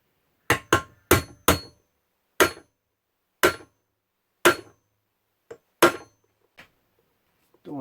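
Sharp hammer strikes ring out one at a time, a quick cluster of four followed by slower, spaced blows in a quiet room, as a hammer drives a pin out of a KitchenAid Artisan stand mixer.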